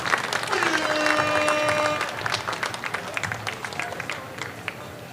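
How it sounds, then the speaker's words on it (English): A crowd applauds host families who house players for the summer at the Midnight Sun baseball game, Michigan Monarchs vs Alaska Goldpanners, with steady clapping that slowly thins while faint tones and scattered voices carry through. "a big round of applause"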